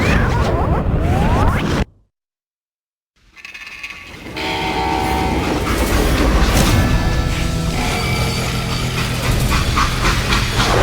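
Rumbling freight train from the Western shooter Call of Juarez: Gunslinger, with clanking rail mechanisms and a horn-like tone, loud and continuous, cut by a brief silence before resuming even louder.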